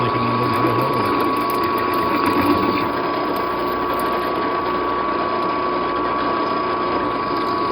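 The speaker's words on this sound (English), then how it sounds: "Okay, I'm countersinking these, but basically I just got a 45-inch countersink" Countersink bit drilling countersink holes in a mounting plate for a CNC spindle, a steady whirring motor drone with a ratcheting mechanical texture running continuously and fairly loud throughout.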